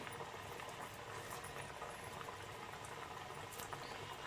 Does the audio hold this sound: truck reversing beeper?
no